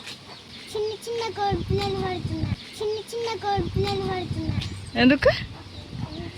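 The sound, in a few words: chicks cheeping while being caught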